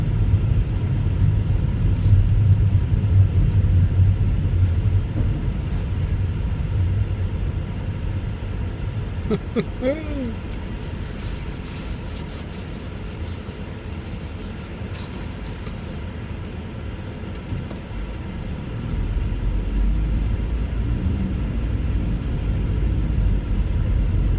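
Car driving along a frozen winter ice road in Canada gives a continuous low rumble of engine and tyres, steady throughout with a brief tonal whine midway.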